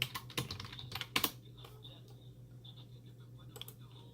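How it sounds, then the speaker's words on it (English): Close typing on a computer keyboard, a quick burst of clicking keystrokes over the first second and a half, then a low steady hum with a few isolated key taps. "I'll type in New York, for example."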